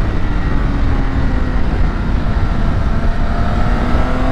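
A 2022 BMW K1600 motorcycle with a flashed ECU tune is ridden wide open, its engine giving a loud, steady roaring drone with a rising tone and heavy wind rush throughout.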